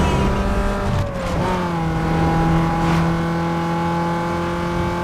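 Opponent cars, a Mustang, an Audi TT and a Supra, accelerating away in the Need For Speed Underground 2 racing game, a loud steady engine drone whose pitch drops and then climbs as the cars pull away, with no voices over it.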